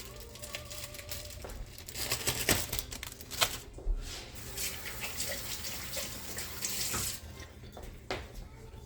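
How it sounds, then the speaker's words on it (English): Hands being washed under a running kitchen tap while preparing a boxed dinner, a steady splashing rush of water with brief clatters and rustles, close and continuous for several seconds. "Okay, I had to wash my hands."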